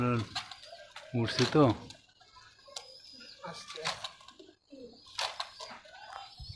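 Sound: Giribaz pigeons cooing

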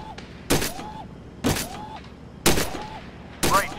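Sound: gunshots in the VR video game Gun Club VR

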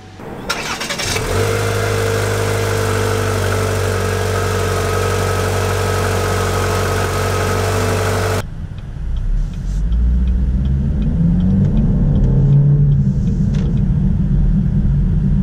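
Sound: car engine starting and driving

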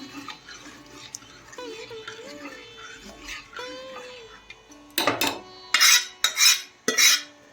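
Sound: stirring jowar flour into water in a pot

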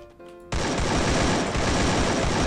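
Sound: gunfire in a video game

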